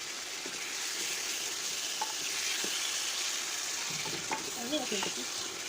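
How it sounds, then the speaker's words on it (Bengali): Potato pieces fry in a spiced masala for a katla fish and potato curry, a soft continuous sizzle broken by occasional scrapes and stirs in the pan, with no talking. "মশলা ভাজা ভাজা হয়ে আসলে এর মধ্যে আলু দিয়ে দেবো।"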